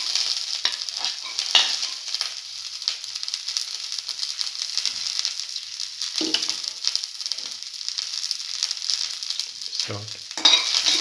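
Garlic frying and being stirred in a pan, a steady close sizzle with occasional scraping stirs throughout, no voices.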